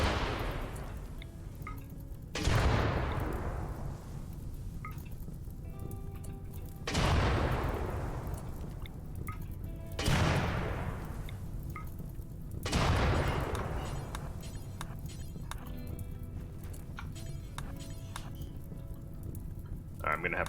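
Gunfire in the RimWorld video game, a few sharp booming shots spaced several seconds apart, each with a decaying tail, over a low steady background with a voice speaking at times.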